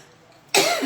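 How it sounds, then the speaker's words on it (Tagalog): A woman coughs once from allergies, a single sudden loud burst after near silence, close to the microphone. "Ubo ko allergy."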